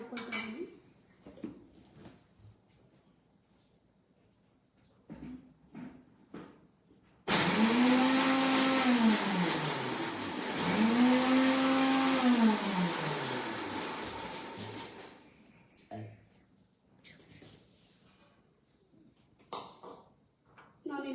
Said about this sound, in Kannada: ನಾನಿಲ್ಲಿ ಒಂದು 4-5 ಬಿಸ್ಕೆಟ್ಸ್ನ ಇಲ್ಲಿ ಹಾಕ್ಕೊಂಡು ಪೌಡರ್ ಮಾಡ್ಕೊಳ್ತಾ ಇದ್ದೀನಿ.